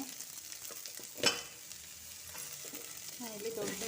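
Onions tipped into a hot pan for Kundapur-style tovve, with curry leaves already in the oil, sizzle and fry under steady stirring, with a sharp burst as they hit the pan and continuous crackling after.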